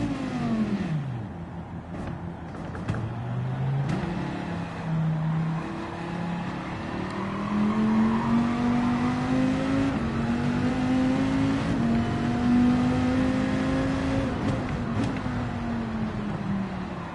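A racing car engine in a driving video game revs and shifts steadily, its rising and falling engine tone sustained throughout with faint background noise and no speech.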